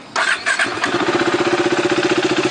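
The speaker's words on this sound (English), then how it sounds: "when you start the bike" A 2015 KTM RC390 motorcycle engine starts up: a brief starter whir, then the single-cylinder catches and settles into a steady, rapid idle thump, close and loud.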